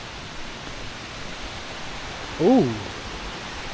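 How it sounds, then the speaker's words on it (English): Water from a stream runs near a forest walking path with a steady, broad rushing wash, and a person's short exclamation rises briefly above it. "I can hear lots of water."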